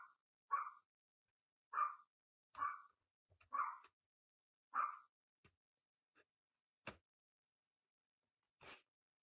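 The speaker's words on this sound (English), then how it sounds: "sorry about my dogs, if you hear my dogs" Household dogs bark in a home workshop during a wood-round door hanger project, about eight sharp barks spaced irregularly over several seconds, moderately distant and fairly quiet with silence between them.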